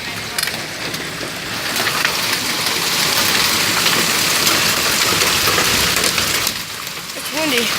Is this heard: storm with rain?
yes